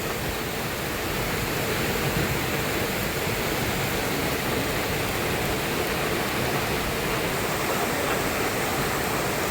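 Floodwater of the Damarvada river in Gujarat, swollen by heavy rain, rushes beneath a bridge in a steady, loud, unbroken roar of turbulent water, with no voices.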